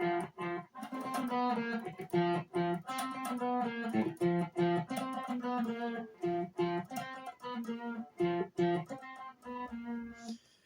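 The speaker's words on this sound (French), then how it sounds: "ensuite vous allez passer à un petit riff qui est plus calme" A clean electric guitar riff with a calm, steady pulse of repeated notes and brief pauses, played alone at moderate volume.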